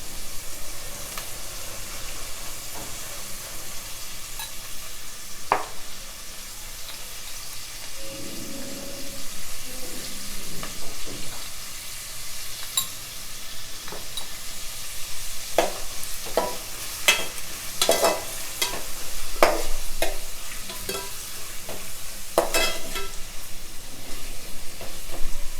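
Onions frying with turmeric and salt for Nellore fish curry, giving a steady sizzle with intermittent spatula scrapes and clinks that grow busier later on, close and moderately loud.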